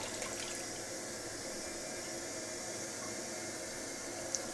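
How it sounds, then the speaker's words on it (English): A running toilet, a steady faint hiss of water flowing continuously at an even level, with one small click near the end. "Toilet started running, that's weird."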